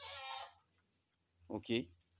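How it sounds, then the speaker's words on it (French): Pakistani buck goat with long ears bleating on a pilot goat farm in the Sahel, Mali; two short wavering bleats follow a brief stretch of nearby talk, fairly close and clear. "des chèvres aux grandes oreilles, dont le bouc ici présent est un spécimen"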